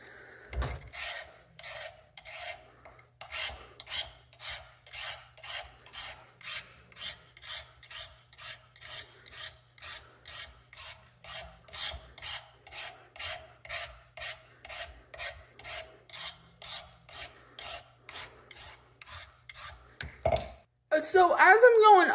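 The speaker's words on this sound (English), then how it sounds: "So as I'm going up and down, it does sharpen, and I can visibly feel a difference on this blade" A knife blade is drawn over and over across the built-in sharpener of a Gerber Ultimate, each pass a short dry rasping scrape in a steady rhythm of about two per second, close and clear, ending in a louder scrape.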